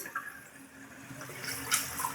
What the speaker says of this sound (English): slowly turn our water back on